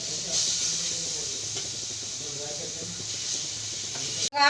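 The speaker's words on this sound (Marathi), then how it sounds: "आता हे कैरी जे आपण खिसून घेतलेली आहे ना आता हे टाकू यामध्ये" Grated raw mango is stirred into spice masala in a hot pan, giving a steady sizzle with light stirring scrapes, ending in a short sharp clatter.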